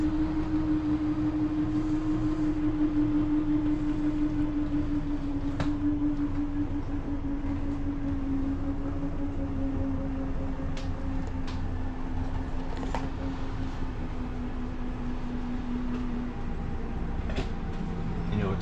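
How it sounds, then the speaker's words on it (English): Slide-out motor on a 2023 Forest River Salem 31KQBTS RV extending, a steady mechanical whine with a slowly falling tone running throughout, plus a few faint clicks as parts lock into place. "you'll extend until you can hear the motor and everything lock into place"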